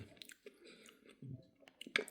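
Close, quiet chewing of a crunchy slice of fruit, with soft wet crunches and squishy bites in an irregular rhythm, no talking.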